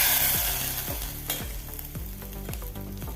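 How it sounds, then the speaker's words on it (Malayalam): Mustard seeds and curry leaves sizzling in a tablespoon of hot coconut oil on a gas stove, a dense steady crackle with sharp popping bursts spread throughout, loud and close with no voices. "ഒരു ടേബിൾ സ്പൂൺ വെളിച്ചെണ്ണ ഒഴിച്ച് ഒരു ടീസ്പൂൺ കടുക് ഇട്ട് കടുക് കൂട്ടി വരുമ്പം കുറച്ച് കരിവേപ്പില ഇട്ട് കൊടുത്ത്"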